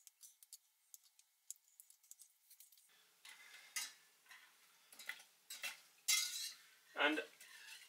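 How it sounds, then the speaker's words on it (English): White chocolate pieces are stirred in a saucepan over low heat, giving a run of light scraping and clinking spoon strokes against the pan, close and fairly quiet, with no one speaking. "over low heat, we just stir to dissolve that"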